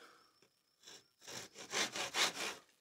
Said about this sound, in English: You can cut square cuts. Straight cuts. If you wanted, you could even cut a groove to